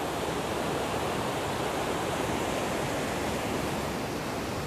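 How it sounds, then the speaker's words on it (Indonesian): A river swollen by rain rushes strongly past a campsite at Cinangka, a dense, steady roar of water that holds at the same level throughout with no voices. "teman-teman dengar kan suara sungainya tuh? Karena memang hujan ya,"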